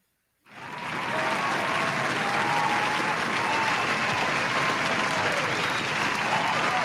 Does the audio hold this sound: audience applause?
yes